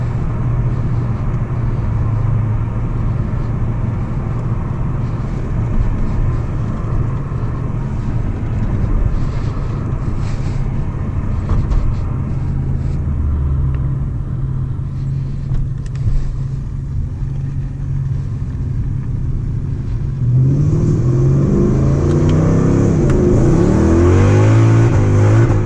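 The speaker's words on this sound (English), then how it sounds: "the sound this thing makes on the red line is" Mercedes CLS 55 AMG with 550 hp, heard from inside as a deep steady engine rumble that builds near the end into a loud, rising high-rev roar toward the red line.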